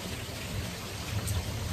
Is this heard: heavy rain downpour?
yes